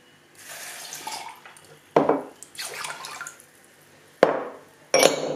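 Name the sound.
pouring water and white vinegar into a polishing tumbler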